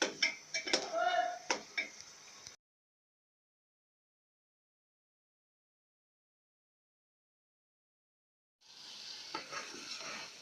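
Spices fry with tomato and yogurt in a pan, a close sizzle with clattering stirring strokes against the cookware, cut off by a long silent gap before the sizzle returns.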